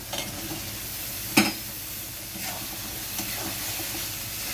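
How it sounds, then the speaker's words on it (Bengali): Cauliflower frying in oil in a pan and turned with a spatula, giving a steady close sizzling hiss with one sharp scrape and a few soft stirring rustles, no voices. "ফুলকপি দিয়ে ভালোভাবে খুন্তি দিয়ে নাড়াচাড়া করার পরে"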